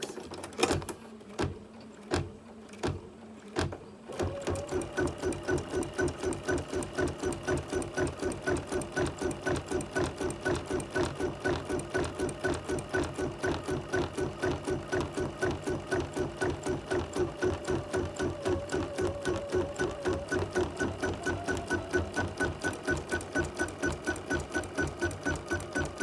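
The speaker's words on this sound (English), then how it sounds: "So I'm all ready to stitch. I've got my bobbin thread pulled up, and I'm going to go ahead and do my zigzags." A sewing machine stitching zigzags: after a few short stop-start bursts, it runs at a fast, steady mechanical chatter of rapid regular needle strokes for about twenty seconds, close and unbroken.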